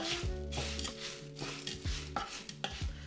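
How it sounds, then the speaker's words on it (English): Orzo and ham are stirred in a pot and start to toast, giving several soft scraping strokes and light knocks of a spoon against the pot over a quiet sizzle. "And then give it a little stir here."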